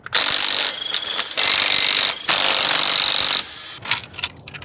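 A tool whirs loudly while removing the alternator bolts from a Ford Ranger engine, running in two long bursts with a brief pause between them, followed by a few clanks and rattles of metal parts.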